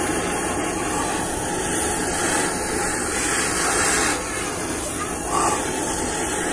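A flame roars in a steady, loud hiss while heating a part from a Honda Beat FI scooter engine during reassembly, continuous and close with only slight swells and a brief dip.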